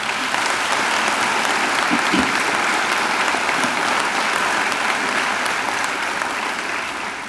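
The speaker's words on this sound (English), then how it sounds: "They deserve a great round of applause too" A graduation audience gives a steady round of applause, a dense wash of many hands clapping that fills the hall without break for several seconds before easing slightly.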